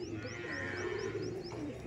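Fulshira Giribaz pigeons kept for sale at a home loft coo in a low steady murmur, with a quick series of high, evenly spaced chirps repeating above it.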